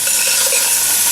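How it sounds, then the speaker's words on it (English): Vegetables sizzle in a pot over medium-high heat while being stirred, making a steady close hiss with faint scraping, with no voices. "So give it a little stir and let it cook on medium high heat"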